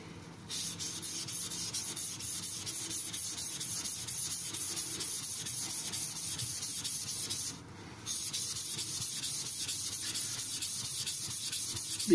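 A Tojiro Shirogami nakiri knife being sharpened on a King whetstone, a steady gritty scraping hiss of steel stroked across the wet stone, continuous and close, with one brief pause partway through.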